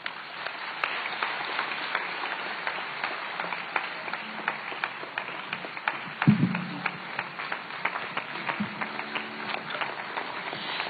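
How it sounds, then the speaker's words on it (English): Audience applause breaks out at the close of a commemorative lecture in Ghana, a dense, steady clapping from a large hall that carries on throughout with a few louder bursts and brief murmurs mid-way. "A round of applause, ladies and gentlemen."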